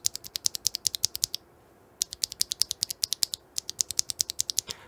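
Typing on Tecsee Neapolitan tactile mechanical keyboard switches: quick, crisp clacks in fast bursts with a short pause between runs, close and clear with no voices.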